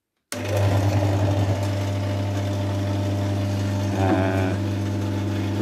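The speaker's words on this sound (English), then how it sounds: "start to pump down. Leak valve closed. Pump on." A vacuum pump on a homemade high-vacuum metalisation chamber starts up and runs with a loud, steady mechanical hum and throbbing drone, close and continuous.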